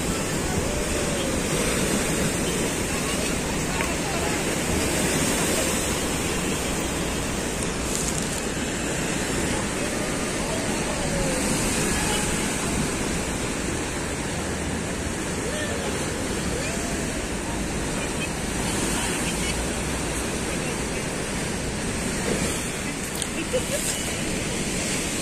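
Sea waves break and wash continuously against the rocky shore at Alexandria, a loud, steady roar of surf mixed with wind buffeting the microphone, while faint crowd voices sit beneath it.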